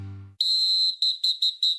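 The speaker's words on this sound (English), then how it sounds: "this whistling business is..." A single person whistles a high, clear tone, first held steadily and then broken into several short repeated bursts, close and alone after a brief low hum fades out.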